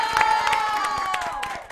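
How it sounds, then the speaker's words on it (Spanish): Studio audience cheering and applauding during a live-streamed Mexican comedy show, a dense roar of clapping and whoops with whistle-like tones riding on top, loud and sustained throughout. "quiero pedir un aplauso para los Animaniacs que se rifaron"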